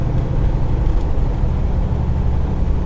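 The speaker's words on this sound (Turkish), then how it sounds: "Birazcık motor freni." A car engine brakes on an Ohio country road, a loud, steady low rumble of engine and road noise with no talk over it.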